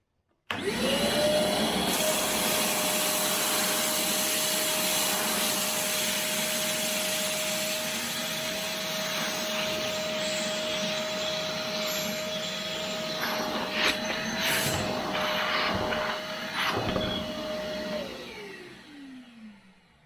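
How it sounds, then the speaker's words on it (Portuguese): An Einhell TC-VC 1930s vacuum cleaner switches on and runs steadily while sucking up sand, a loud whine holding a constant pitch, with gritty rattles near the end before the motor spins down. "Vamos ligar, vamos tentar aspirar isto, sem muito esforço."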